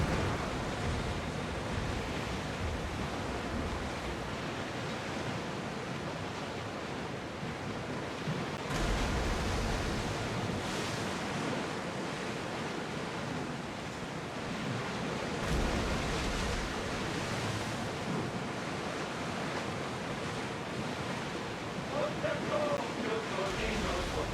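A sailing ship driving at full speed through waves in the video game Assassin's Creed Odyssey, heard as a steady, loud wash of surf and rushing wind with periodic surges of water that continue throughout.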